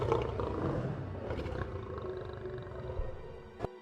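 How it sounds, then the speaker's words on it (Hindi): A loud, deep animal roar rumbles close and sustained for several seconds, ending with a sharp hit. "तभी एक जोरदार दहाड़ सुनाई देती है"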